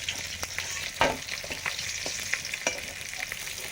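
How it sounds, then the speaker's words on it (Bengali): Pomfret fish frying in oil in a pan: a steady close sizzle broken by sharp spits and scrapes, with no talking. "রূপচাঁদ মাছ ভাজা হয়ে গেছে,"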